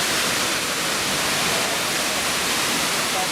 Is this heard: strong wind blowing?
yes